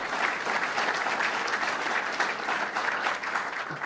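A steady round of audience applause at a government announcement event honoring Dean Skelos, dense and continuous clapping from a crowd throughout, fairly even in level with no voices standing out.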